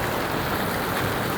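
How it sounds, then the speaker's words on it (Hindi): A large waterfall roars below the Kedarnath trek in the Himalayas, a dense, steady wash of rushing water filling the air without a break. "ये जो आवाज़ आ रही है, ये कोई कम आवाज़ नहीं है, ये बहुत बड़ा झरना है जो कि नीचे है"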